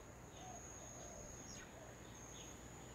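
Noisy miner birds calling around a house with gutters and a metal roof on a quiet afternoon, scattered chirps and short squeaky calls over a steady high insect-like whine and broad outdoor background noise.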